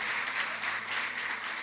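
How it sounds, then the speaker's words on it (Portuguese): A church congregation applauds during a worship service, a steady wash of clapping at a moderate distance throughout a short stretch. "Você pode aplaudir ao Senhor?"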